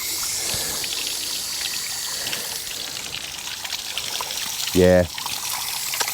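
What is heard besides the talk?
water flushing through a Thorneycroft BMC 1.8 engine cooling system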